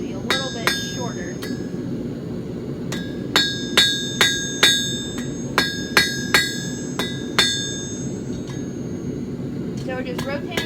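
A blacksmith's hammer strikes hot steel while forging a short square taper for a hook, giving loud, close, ringing blows in quick bursts and pauses over a low background hum.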